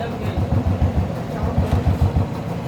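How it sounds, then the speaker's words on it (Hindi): A Royal Enfield 350 Electra motorcycle engine idles after repair for a tapping noise, a low steady thumping beat repeating evenly at close range, with someone speaking over it. "देखिए सिर्फ इंजन का आवाज़ है, सिर्फ इंजन का।"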